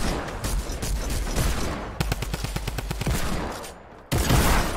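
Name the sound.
gunfire in the video game Fortnite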